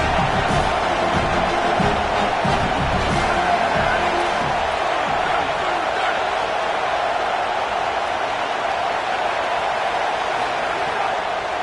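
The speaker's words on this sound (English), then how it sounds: "Here comes this home crowd as the defense tries to get off the field on third down" Home crowd at an American football game roars in a loud, steady wash of cheering and noise on a third down, with a voice briefly heard underneath.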